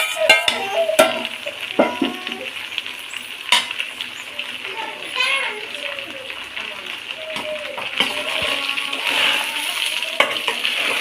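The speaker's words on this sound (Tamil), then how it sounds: "நல்லா கிளறிங்க கிளறிட்டு இப்போ வந்து நல்லா வதங்கிருக்கு வெங்காயம்" Chopped onions stirred and sautéed in a pan while tempering a Chettinad-style dish, giving a steady sizzle with repeated scraping clicks of the spoon against the pan, close up, as a voice talks over it.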